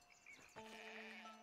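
A single sheep bleat in the video game Foundation, a short wavering cry heard close and alone against quiet background.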